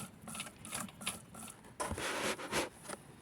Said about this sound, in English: it's a little bit hard because I am sewing directly on the vinyl